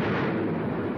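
Continuous heavy rumbling blasts from explosions and smoke screens during WWII Exercise Tiger practice landings in England, a dense loud roar with no pause.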